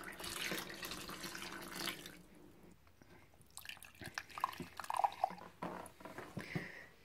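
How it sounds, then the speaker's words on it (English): Wort poured back over the mash during beer brewing, a steady splashing pour of liquid followed by quieter trickles, drips and squishy sloshing, close and moderately soft without any talking. "we'll take some of the wort out and pour it back over the top of the mash"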